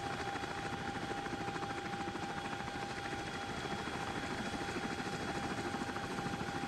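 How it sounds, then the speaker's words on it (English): CH-47D Chinook helicopter engines running in the X-Plane 12 flight simulator, a steady droning turbine whine with a rapid rotor beat throughout, constant and unbroken with no voices. "with the helicopter started, this system up and running"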